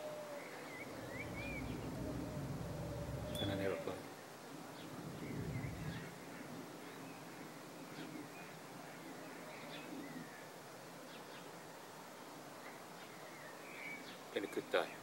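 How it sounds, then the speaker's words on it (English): Birds call in a garden at sunset, soft scattered chirps and coos drifting from a distance over a quiet, faint background, with a few brief sharper calls near the end. "And all you can hear is birds."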